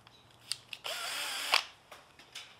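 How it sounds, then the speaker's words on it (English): A power drill whirs steadily for under a second while building a solar air heater frame, with a brief louder burst near its end, surrounded by a few short mechanical clicks and taps. "I used a drill."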